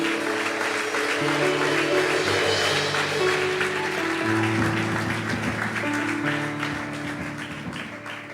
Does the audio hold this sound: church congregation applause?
yes